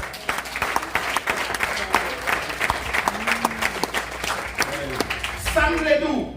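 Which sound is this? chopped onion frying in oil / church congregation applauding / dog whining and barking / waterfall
church congregation applauding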